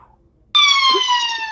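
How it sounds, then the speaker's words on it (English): A siren starts abruptly and holds a loud, steady electronic tone with layered harmonics, clear and close after a brief quiet moment. "There's a siren."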